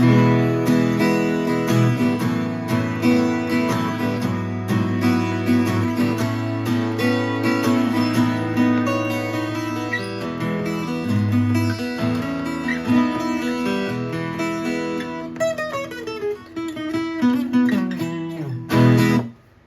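A Yamaha APX-5-12A twelve-string acoustic-electric guitar played unplugged, ringing chords and picked runs with a bright, shimmering doubled tone, continuous and close, ending in a final strummed chord, no talking.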